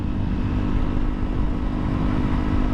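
A 2017 Honda CRF 250L 250cc dual-sport motorcycle riding on the road, a steady dense engine drone with rumbling wind noise, loud and continuous throughout.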